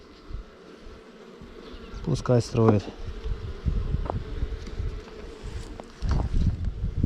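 A continuous buzz of honey bees around an open hive during an inspection, with someone briefly talking over the drone and occasional louder bees passing close to the microphone.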